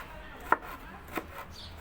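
Two sharp knife chops on a cutting board cutting kapia peppers, spaced apart, fairly close and moderately loud over a quiet room background.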